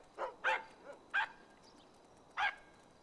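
A dog in GTA Online barks four times in short, clear yaps, with a fainter whimper between them, loud and near against a quiet background.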